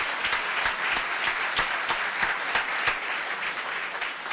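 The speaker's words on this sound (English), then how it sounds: "Our applause says thank you, Julia and Kemper." A luncheon audience at a Rotary meeting gives the speakers sustained, even applause, many hands clapping together in a dense, steady wash.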